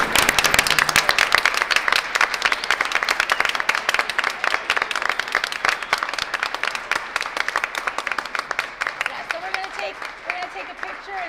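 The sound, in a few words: audience applause for team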